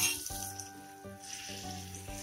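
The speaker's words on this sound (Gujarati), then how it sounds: "હવે આપણે એને તવામાં ફ્રાય કરીએ." Mixed-vegetable gold coin patties frying in butter in a tava over medium-low gas, sizzling steadily and close over quiet background music.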